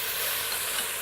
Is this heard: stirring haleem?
yes